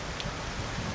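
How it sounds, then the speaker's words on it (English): Steady rain hisses evenly throughout, a continuous wash of drops with no voices. "Well, it's raining."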